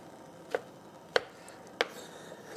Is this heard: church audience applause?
no